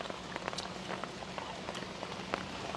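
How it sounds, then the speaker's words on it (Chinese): Rain falls at an outdoor lamb skewer stall in Hefei, a dense, even hiss with scattered crisp drop ticks spattering on nearby surfaces, steady throughout and unaccompanied by voices. "因为现在下雨了"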